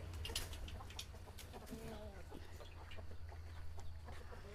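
Chickens clucking on a farm, several birds making short repeated clucks over a steady low hum, with a faint voice now and then in the background.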